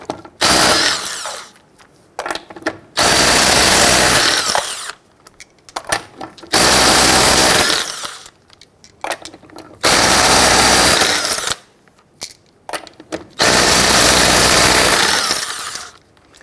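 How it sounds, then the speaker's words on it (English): A power tool with a 19mm socket loosens and removes the rear wheel lug nuts on a 1994-2004 Jeep Grand Cherokee, giving four or five loud rattling impact bursts of one to two seconds each, separated by short pauses. "Using your 19mm socket, loosen and remove your lug nuts."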